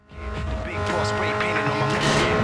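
A car engine revving and accelerating hard in NFS Most Wanted Redux, a rising, roaring drone with harmonic whine that builds and holds, mixed with excited voices talking over it.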